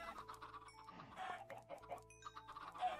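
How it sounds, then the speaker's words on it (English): Baby chickens in Minecraft cluck in short, soft, irregular bursts, fairly quiet against light in-game background sounds, with nobody speaking. "Careful, don't hit the baby chickens."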